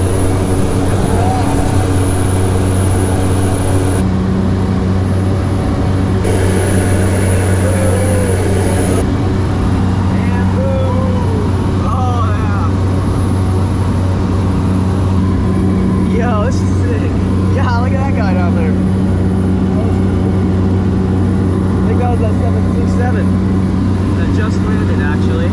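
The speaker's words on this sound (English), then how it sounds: "The Sansa aircraft, here we go. And we're taking off." A Sansa Airlines propeller airplane takes off, its steady engine drone and hum loud and close from inside the cabin, with voices talking over the noise throughout.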